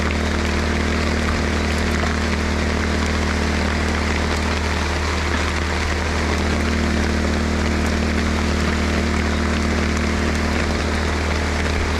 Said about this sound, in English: Actually, it's quite soothing in the rain. I'm sure that you can hear that